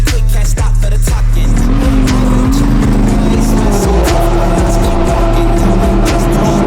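A race car drives on the Barcelona circuit during a 24-hour endurance race, its engine roaring loud and steady throughout with a rising and falling pitch as it accelerates and shifts.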